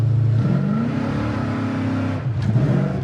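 A 1971 Chevelle SS V8 revs hard and climbs in pitch, then shifts into third gear and pulls again, loud and close, with the rising engine note falling briefly at the shift before building once more.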